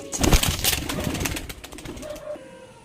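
Pure Lambary breed pigeons cooing at close range, a few soft throaty coos with light rustling and wing movement, short and fairly faint with no talk.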